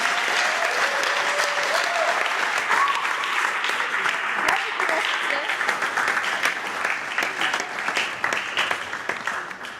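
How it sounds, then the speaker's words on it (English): Audience applause at an anniversary open house, sustained crowd clapping that stays strong, thins slightly toward the end, with a voice briefly heard over it. "give me your loudest clap and appreciate this amazing woman"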